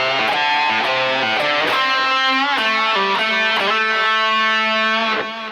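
Electric guitar plays a quick pentatonic lick in A from the solo, with slides and bent notes in a fast run, loud, close and lightly overdriven, with no voices.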